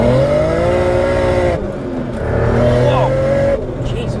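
A BMW E46 M3 fitted with a single-turbo N54 engine accelerates hard from a low-gear roll-on, a loud droning engine note rising in pitch through two gear changes, heard from inside the car with a voice over it.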